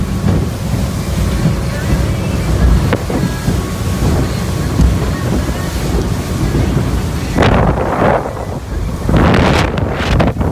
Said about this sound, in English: Boat runs really, really good.